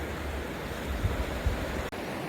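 River water flows steadily past a viewing platform at a state park canal, a constant broad rushing wash with slight swells, close and uninterrupted.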